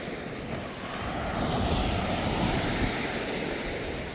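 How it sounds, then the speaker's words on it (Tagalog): Sea waves wash steadily onto a beach beside moored fishing boats, a continuous surf rush with wind noise across the microphone, moderately loud and with no talking. "nakita niyo naman po yung uh, dagat namin dito"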